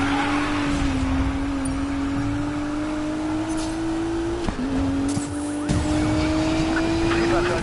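Police sirens wail in a Need for Speed Payback car chase, a steady, loud siren tone holding through the whole stretch over a dense bed of engine and road noise, with a brief dip and jump midway.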